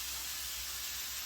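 Food sizzles in a frying pan inside a motorhome kitchen while travelling in Bosnia, a steady, fairly loud hiss with no breaks throughout.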